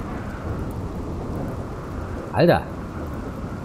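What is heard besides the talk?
thunderstorm with lightning strike in video game RimWorld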